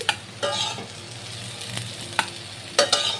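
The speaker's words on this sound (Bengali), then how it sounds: "এখন আমি বেগুনটা দিয়ে দেব বেগুনটাও বেশ কিছুক্ষণ নেড়ে ছেড়ে ভাজা করে নিতে হবে" Potato and eggplant pieces fry in mustard oil in a kadai, giving a steady sizzle broken by several sharp scraping stirs of the spatula against the pan, close and alone.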